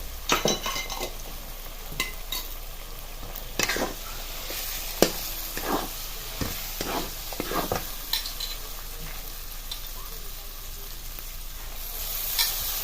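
Peanut paste sautéing in hot oil while a spoon stirs it, giving a continuous sizzle with frequent scraping clicks against the pan, close and moderately loud, with no talking.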